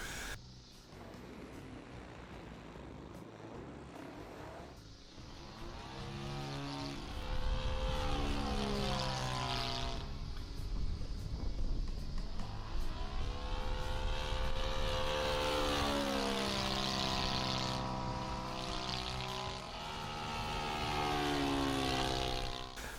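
An FMS PA-18 Bush Cub 1300 mm radio-controlled model airplane flying outdoors, its faint electric motor and propeller whine rising and falling in pitch as it passes to and fro at a distance.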